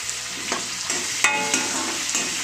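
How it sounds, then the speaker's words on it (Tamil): Onions sautéing in a pan for rava kichadi, a steady close sizzle broken by several soft stirring scrapes and clicks, with no voices. "வெங்காயம் கொஞ்சம் நேரம் வதங்கட்டும்."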